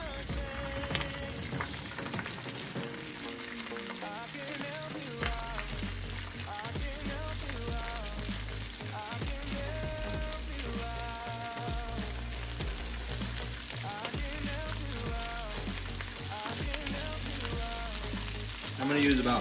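Rice hitting hot oil in a pan gives a steady, dense sizzle that lasts throughout, close and fairly loud, with a few faint clinks of stirring and no speech.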